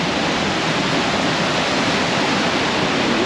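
A waterfall in a gorge, heard from the very top, roars in a steady, dense broadband rush that stays loud and unbroken throughout, with no voices over it.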